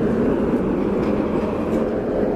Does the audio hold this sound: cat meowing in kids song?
no